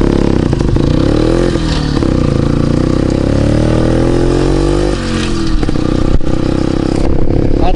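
A Soviet Jupiter motorcycle rides off on a dusty road, its engine loud and close, revving steadily and rising in pitch through the gears, with some clatter.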